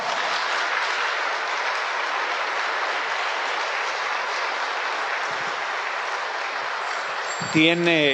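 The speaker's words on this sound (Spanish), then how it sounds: "Le brindamos un fuerte aplauso a Monseñor" Sustained applause from a congregation at an anniversary Mass of a nocturnal adoration society, dense and steady for about seven seconds before a voice cuts in near the end.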